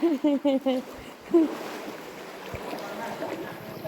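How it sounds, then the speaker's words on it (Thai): A brief voice is heard, then a boat arriving to pick people up approaches over the water near a cave, its engine and wash building into a steady rushing noise. "มาแล้วเรือมารับ"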